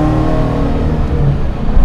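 Supercharged LS9 V8 with a 2300 Edelbrock blower in a 1971 Camaro restomod pulls hard under acceleration around 4,000 rpm, a loud, steady close-up engine roar with layered harmonics and no talking.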